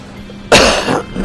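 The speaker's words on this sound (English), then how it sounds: "Sorry, I'm coughing in that thing" A single sharp, loud cough goes straight into a close microphone, breaking through quiet background hum and trailing off raggedly.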